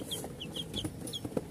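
KUB chickens on a small farm flock of ten hens and roosters cluck in quick, repeated bursts, close and clear with no talking.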